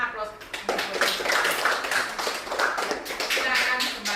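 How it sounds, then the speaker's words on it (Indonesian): An audience in a group presentation session breaks into applause, a steady wash of many hands clapping that starts just after the opening moment and continues to the end. "Kita berikan aplaus."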